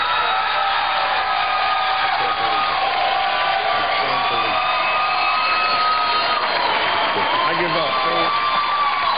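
Studio audience on a television talk show responding with applause, cheers and whoops, a lively crowd roar that stays loud and busy throughout with shouted voices mixed in.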